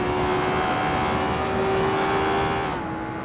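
A classic Lotus Formula 1 car's Coventry Climax FWMV 1.5-litre V8 in the Assetto Corsa racing game, a loud, steady high-pitched engine whine holding its pitch before easing off slightly near the end.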